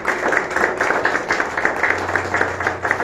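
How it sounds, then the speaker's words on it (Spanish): A church congregation at a Spanish-language evangelical service applauds in rhythmic, pulsing waves of clapping, with a low steady hum beneath. "Denle un fuerte aplauso al Señor"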